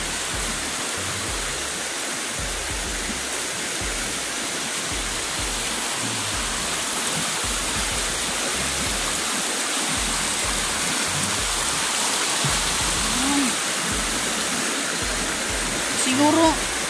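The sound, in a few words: floodwater rushing after heavy rain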